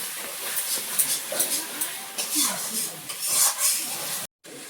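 Spice paste of coriander leaves, tomato and water being stirred and cooked in a pan: a close, hissing steam sound with scraping stir strokes, uneven and continuous, ending in a brief cut to silence.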